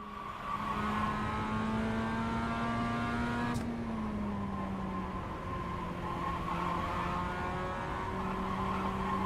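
A race car's engine drones steadily on throttle at Barber circuit, a close, continuous engine tone from the cockpit whose pitch dips slightly partway through, with faint tire noise and no talk.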